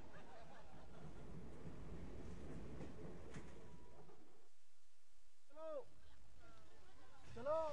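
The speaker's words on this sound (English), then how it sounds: "It was an overnight train north of Calcutta," An overnight train runs north of Calcutta with a faint, continuous rumble of wheels on rails for several seconds. The rumble then drops away, and brief voices follow near the end.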